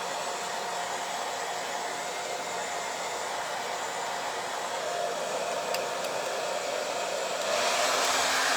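A hair dryer blows steadily on a sticky craft coating for a tabletop beehive, a constant close whooshing roar that swells slightly louder near the end.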